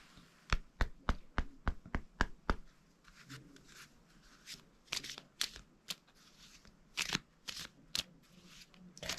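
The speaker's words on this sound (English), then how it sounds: "let's get some Harry Potter cards out and see what's going on" Harry Potter trading cards being taken out and handled, a quick regular run of crisp flicks and snaps followed by looser, irregular shuffling and tapping close by.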